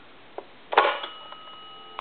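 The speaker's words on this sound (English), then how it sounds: "I'm going to go ahead and hit redial." Redial on a German post office telephone: a few brief clicks and a short burst of mechanical ticking and rattling from the handset, close and fairly quiet, with small ticks trailing off.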